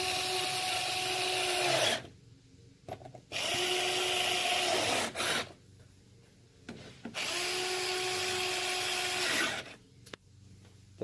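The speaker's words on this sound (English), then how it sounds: "Got my trusty Black & Decker." Black & Decker power drill driving Torx screws while a grill is refinished, running in three long, loud whining bursts that ramp up and wind down, separated by short pauses with brief clicks.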